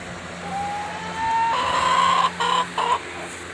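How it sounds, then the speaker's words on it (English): A rooster or hen gives a drawn-out rising call, then a few short broken clucks, outdoors against a low steady background hum. "Look at the chickens out there."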